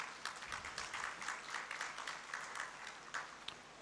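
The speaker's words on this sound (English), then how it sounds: "Please round of applause while he comes to you." Conference attendees give a fairly faint, steady round of applause, a soft wash of many hands clapping without talk.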